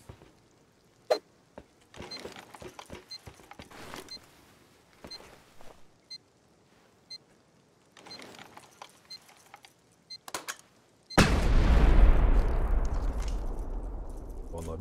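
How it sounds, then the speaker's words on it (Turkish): Explosion in the survival game Rust during a snowy zombie-server raid: a sudden loud broadband blast near the end that rumbles and decays over a few seconds, preceded by scattered clicks, footsteps and faint gunfire-like pops. "Vallahi bir şey patladı."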